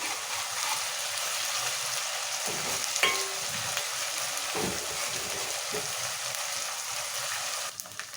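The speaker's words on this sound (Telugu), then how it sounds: "ఈ అల్లం వెల్లిగడ్డ వేసాం కదా, పచ్చివాసన పోయిన దగ్గర నూనె కొంచెంసేపు ఉడికించుకోవాలి" Ginger-garlic paste frying in hot oil for a mutton fry, a steady close sizzle and crackle that runs throughout with a few brief stirring scrapes and no talk.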